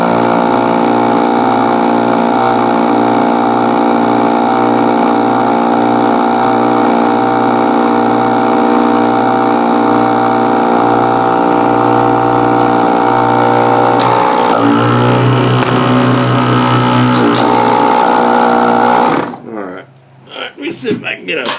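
A small air compressor under repair runs loud and close with a steady pulsing motor chug, its pitch shifting near the end before it cuts off abruptly, followed by a few clunks.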